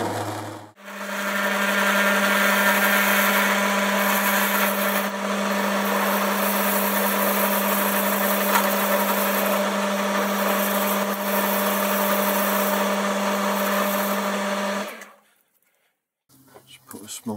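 A metal lathe running with the part held in the chuck jaws as it is squared up, a steady loud motor whine and hum that holds for about fifteen seconds before stopping abruptly.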